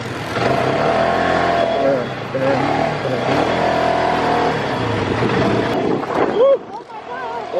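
An ATV engine revs and accelerates on a bumpy excursion on Grand Turk, a loud, steady motor drone that rises and falls in pitch for most of the clip, with voices mixed in over it.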